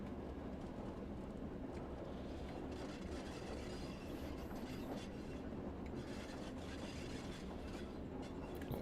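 A model train runs along a layout from a station up to the sidings, giving a steady, continuous rolling rumble with faint wheel clatter, close by and alone, with no one speaking.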